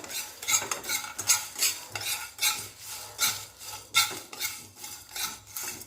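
Dry spices and red chillies roast in a dry pan while a spoon stirs in quick rhythmic scrapes, each sweep rising and falling in a regular pattern, close and alone.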